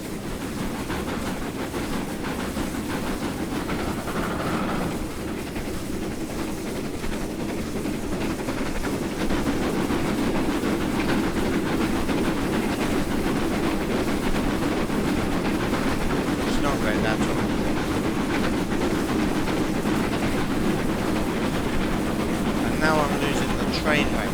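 A King Class steam locomotive on the Riviera Line in a 1950s train simulator game runs in a steady, continuous rumbling roar with faint rail clatter, even and sustained throughout and never fading.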